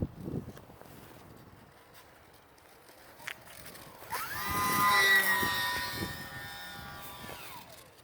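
An electric motor of a small RC P-47D model plane on a 3S battery at full throttle, rising to a thin whining buzz that swells in the middle and fades, fairly faint over outdoor background.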